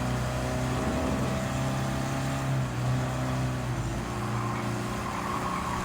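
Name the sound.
Willys Jeep engine driving in Gran Turismo 7 video game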